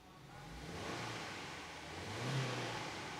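A 2023 Subaru WRX engine revs as the throttle is pressed, a steady mid-pitched roar that swells and holds near the limiter, heard up close from inside the car with no talk.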